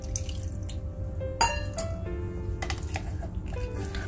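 Water is poured into banana paniyaram batter, making a faint, close trickle with small splashes and drips against a steady low background.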